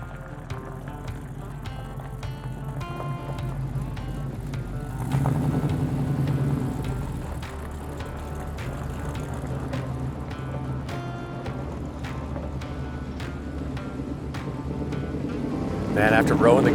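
A modified off-road vehicle called Huck is run up through its gears to speed, the engine droning and swelling in a couple of surges while a person talks over it.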